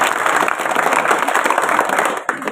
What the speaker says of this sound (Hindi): आप हमारे प्रत्याशी के लिए जोरदार तालियों से उनका स्वागत